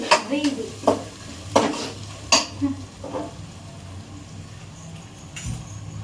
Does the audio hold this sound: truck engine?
no